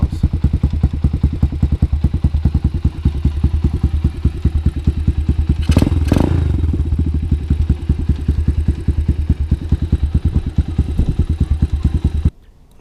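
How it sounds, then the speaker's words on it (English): An XPRO X7 motorbike fitted with an Amazon aftermarket exhaust idles close by with a steady, rapid popping putter, a brief louder rev in the middle, then cuts off abruptly near the end. "she fires right up. This is how that Amazon exhaust sounds."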